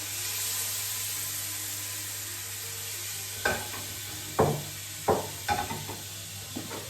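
Juice poured back into a pan on low heat sizzles in a handful of short bursts over a faint steady hiss, fairly close and without talk.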